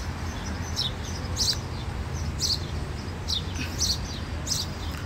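Small birds chirp in short, repeated tweets at a park near a marina mall, the high calls recurring every second or so over a low, constant rumble of distant traffic.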